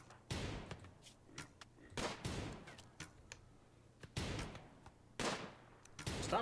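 Gunfire in the RimWorld colony game comes as sharp, distinct shots in irregular bursts, some single and some doubled, fairly quiet with gaps between them.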